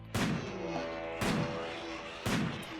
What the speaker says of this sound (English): Lindsay, shoot the buck.